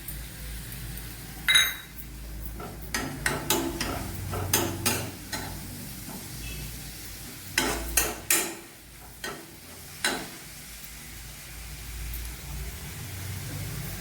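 Crushed ginger and garlic paste fries in a pan under a low, steady sizzle, while a utensil strikes and scrapes the pan in repeated sharp clinks during stirring, close and without talking.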